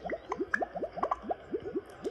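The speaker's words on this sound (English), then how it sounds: "Let's play in the bubbles." Bubbles in the Toca Boca camping game on an iPad pop and burble in a quick, irregular string of soft, rising plops, a dozen or so bright blips close up and fairly quiet with no talk over them.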